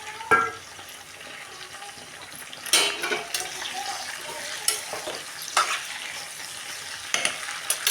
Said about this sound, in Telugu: ఇప్పుడైతే ఉల్లిపాయ వేయచ్చు, టమాటాలు పచ్చిమిరపకాయలు అయితే వేసుకుంటున్నాను.